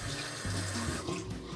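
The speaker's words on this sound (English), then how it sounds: "So let's put some water in the brush." Water runs from a tap onto a synthetic shaving brush, a steady close splashing stream with slight shifts in pitch as the brush moves under it.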